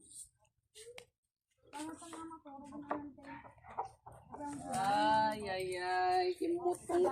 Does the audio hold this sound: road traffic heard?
no